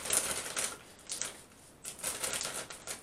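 Cheap paper scissors snipping through plastic packaging, close up, in a series of crisp, rustling cuts with short pauses between bursts.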